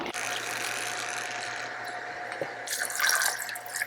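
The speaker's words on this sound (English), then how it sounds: "let's go ahead and add 2 ounces of our cognac today" Cognac poured steadily into a shaker for a sidecar cocktail, a continuous liquid trickle close to the microphone that swells into a brighter splash near the end.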